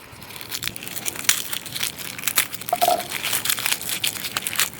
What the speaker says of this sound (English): taking the garlic apart and cleaning it up